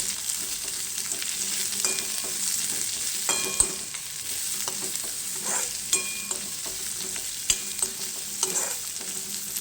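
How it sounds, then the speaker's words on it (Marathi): Long, thinly cut cabbage sautés in a pan for veg noodles, a soft continuous sizzle with repeated spatula scrapes and clinks as it is tossed and stirred. "दोन ते 3 मिनिट आपल्याला गोबी परतायचं आहे।"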